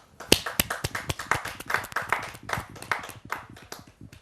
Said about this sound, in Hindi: जा जोरदार तालियों के साथ हम आमंत्रित कर रहे हैं मधुबाला सिंह जी को।